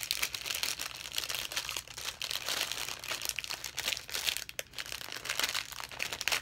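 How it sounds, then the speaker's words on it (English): Plastic packaging of a Diamond Dotz kit crinkles close up during unboxing, a dense, continuous rustle and crackle with brief pauses and no talk. "Sorry if I'm crinkling in your ear."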